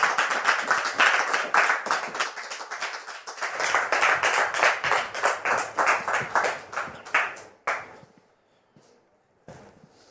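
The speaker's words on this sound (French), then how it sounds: "Merci de le recevoir sous vos applaudissements." Audience applause welcoming a guest onto a stage: brisk, loud, rhythmic group clapping that thins and fades out near the end, leaving a few scattered last claps.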